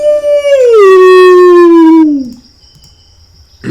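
A zombie dog in a Dungeons and Dragons session lets out a single loud, drawn-out howl that slides downward in pitch and then breaks off, followed by near silence.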